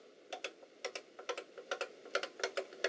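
A short run of crisp mechanical key clicks from an IBM Beamspring 5251 keyboard, about a dozen close, distinct strokes at an irregular typing pace with no voices.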